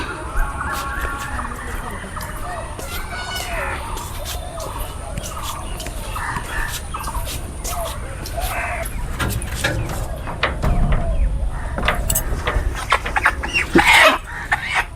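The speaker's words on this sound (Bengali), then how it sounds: "দেখো দেশি মুরগি নিয়ে আসছি" Desi chickens bought at a village market cluck and squawk in bursts nearby, over background bustle, with a few louder cries toward the end.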